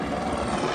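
A helicopter flies a few blocks away in La Puente, a steady broadband rumble and whir that stays constant throughout the short stretch, with no talking.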